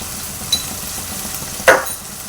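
Vegetables with tomatoes fry in a pan with a soft continuous sizzle, broken by two short stirring scrapes, the second louder.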